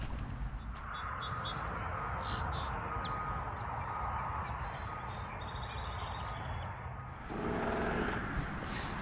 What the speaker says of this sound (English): there's a bunch of birds out here